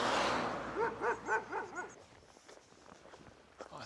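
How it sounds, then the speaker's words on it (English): Aggressive dogs barking on a hillside near the Hastings battlefield, a quick run of about five loud barks, then quieter scuffling and movement. "Also get away from his aggressive dogs."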